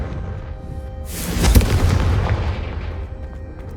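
In Hogwarts Legacy, the Confringo fire curse goes off as a single heavy, booming blast that swells up and then rolls away over a couple of seconds.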